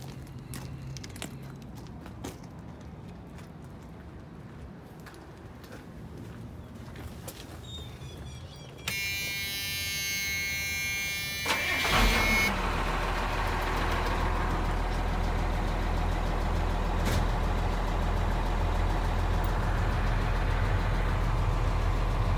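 An FMC LMD2000 deicer engine is started after a few quiet seconds of background noise: a brief whine, then the engine catches and settles into a steady, loud, low idle that continues to the end.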